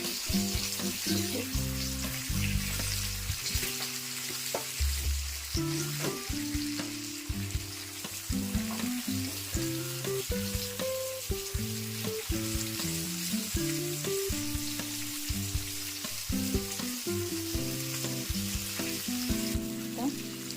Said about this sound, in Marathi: पापलेट घालून झाले जातं ते व्यवस्थित पलटून घेऊया